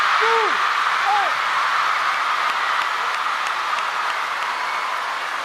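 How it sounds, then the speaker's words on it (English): Crowd noise in a table tennis arena at an Asian Cup event, a dense, loud, steady roar of cheering and applause filling the space without letup, with a couple of brief whistle-like chirps near the start. "the crowd in this arena are making an awful lot of noise"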